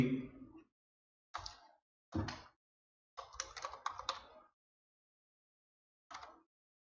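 Computer keyboard typing code in short bursts: a quick volley of keystrokes, two single clusters, a longer run of clicks, then one last brief burst, close and crisp with silent gaps between.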